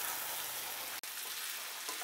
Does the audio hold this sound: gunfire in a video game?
no